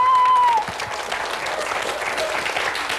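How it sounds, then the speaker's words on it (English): Studio audience applause on a Canadian TV talk show, a steady broad wash of clapping filling the whole stretch at moderate level, with a brief tone at the start. "You applaud."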